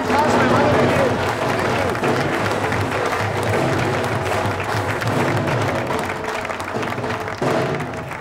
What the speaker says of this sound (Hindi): बहुत सारी तालियां हमारे इन खास मेहमानों के लिए।